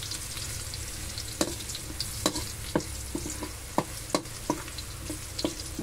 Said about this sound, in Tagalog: Halo-haloin lang natin ito guys para hindi masunog.